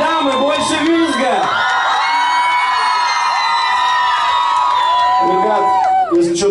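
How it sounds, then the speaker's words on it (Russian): Crowd of women at a concert shrieking and cheering together, a loud sustained high-pitched chorus of screams and whoops that rises and holds, dipping briefly near the end. "Больше визга, дамы! Больше визга!"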